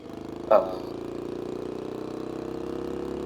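An engine in a LittleBigPlanet 3 creation running at a steady, rhythmic idle throb, with a short sharp clunk near the start before the even chugging continues alone.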